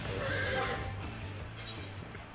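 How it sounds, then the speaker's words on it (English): A horse mount in Final Fantasy XIV gives a loud, close whinny over a brief run of clip-clopping hooves, with no talk. "I gotta show you the horses"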